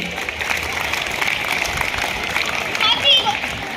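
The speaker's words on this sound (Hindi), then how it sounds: "एक बार आप सब ताली तो बजा दीजिए" Audience at a school annual function clapping in a steady, moderate stream of applause mixed with children's voices and a busy hall murmur, with a brief louder swell near the end.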